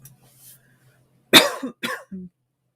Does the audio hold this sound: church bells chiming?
no